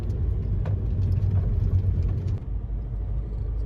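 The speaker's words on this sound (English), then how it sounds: "We're just driving to Parkrun now." Car rolling along a road on the way to a parkrun in North Devon, a low steady rumble and road noise at moderate level, easing slightly near the end, with no one speaking.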